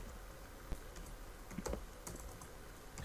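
Typing on a computer keyboard, quiet irregular key clicks with a few sharper taps, close and soft, with no voice.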